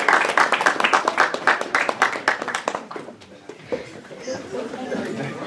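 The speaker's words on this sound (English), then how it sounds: "Let's give yourself a round of applause." Clapping from the crowd at the close of a Philadelphia All-American Game team draft selection show, a burst of hand claps that dies away after about three seconds, leaving voices and room chatter.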